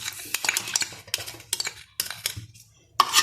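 Big spoon stirring cumin and thyme in a dish, a rapid series of scraping, clinking strokes with brief pauses between them, close and fairly loud with no talk.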